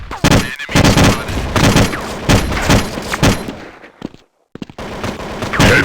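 Heavy Counter-Strike gunfire in a port battle, rapid automatic bursts and overlapping shots close and loud, with a brief lull before firing resumes.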